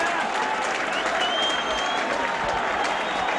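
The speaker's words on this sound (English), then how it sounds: "the Warrington crowd appreciating that run there by Phil Blake" A rugby league crowd at a Warrington v Wigan match in 1985 applauds steadily, a dense wash of clapping from many hands that holds evenly throughout, with a commentator's voice faintly underneath.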